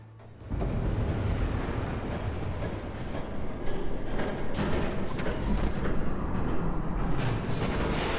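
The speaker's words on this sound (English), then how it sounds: "There's a train coming." A train in the Telltale Batman video game rumbles in and roars past, a loud, steady rolling clatter with bursts of hiss and grinding that swell toward the end.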